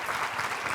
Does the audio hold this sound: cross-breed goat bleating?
no